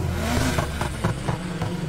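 A revving car engine in the video game Need for Speed Heat, with crackling, popping exhaust bursts over a rumbling drone.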